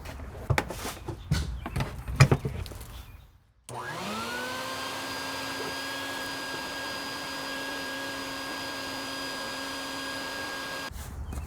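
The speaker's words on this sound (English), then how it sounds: "So let me go ahead and get a vacuum cleaner." A vacuum cleaner starts up and runs steadily and loudly for several seconds, used to clean out the air filter housing of a Porsche Cayman 987, after some earlier handling noises and a brief pause.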